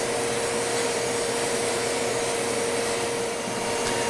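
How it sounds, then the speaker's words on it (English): A vacuum cleaner roars steadily and loudly while cleaning sawdust from band saw wheels, tires, guide bearings and motor, an unbroken whine with no pauses or talk. "I also vacuum the upper wheel and tire, as well as the guide bearings, the motor, and any other spots where dust is built up."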